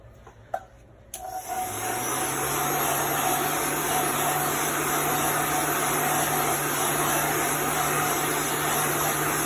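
A hair dryer blows air to dry chalk paste stenciled onto a kitchen towel, a steady loud whooshing hum that switches on after a couple of soft clicks and holds without a break.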